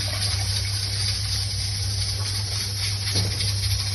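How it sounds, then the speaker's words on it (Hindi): Water is poured into a pot of falsa berries for sharbat, a steady, close rushing hiss that runs without a break and has no talk over it. "अच्छी तरह धो लिया और इसमें डाल देंगे पानी"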